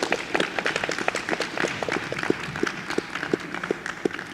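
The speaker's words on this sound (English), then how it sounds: "let's give her a round of applause." Scattered hand claps from a small audience at an opioid discussion panel, sparse and uneven rather than a dense roar, moderately close with a faint murmur of voices underneath.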